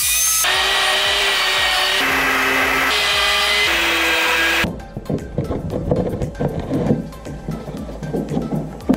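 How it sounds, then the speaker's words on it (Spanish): A circular saw whines loudly at steady pitch, briefly shifting tone, then cuts off into rough, irregular noises while cutting a notch in wood. "cortar una muesca con la sierra circular que tenemos aquí al lado"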